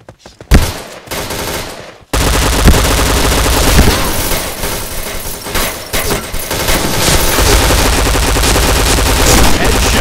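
Rapid, loud bursts of P90 submachine gun fire in a shooter video game, near-continuous automatic firing after a brief opening shot, dense and close.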